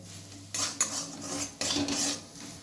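Spice paste for a Bengali cabbage curry is stirred and fried, with a metal spoon scraping and clattering against the pan in two close bursts over a faint sizzle.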